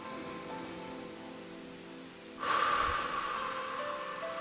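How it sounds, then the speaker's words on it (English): A single long, deep inhalation through the nose, starting about halfway through and holding steady to the end, close and fairly soft over quiet room tone. "take a deep breath in"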